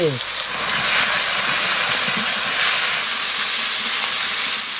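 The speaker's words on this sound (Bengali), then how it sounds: "ওই তেলে কালো জিরে দিয়ে দেবো" Black cumin seeds and chopped onion sizzle in hot oil left from frying pomfret, a steady loud hiss with crackle that runs throughout, with a faint voice briefly underneath.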